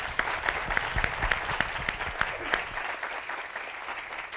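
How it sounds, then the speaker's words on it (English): Audience applause for the staff at a beach club during a Santa Monica travel and tourism summit, a steady mid-distance wash of many hands clapping with sharp individual claps standing out, thinning slightly toward the end. "Let's give the staff here a round of applause."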